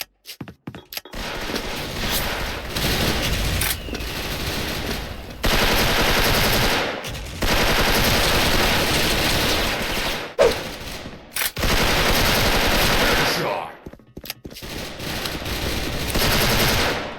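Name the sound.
gunfire from gold M4A1 rifle in video game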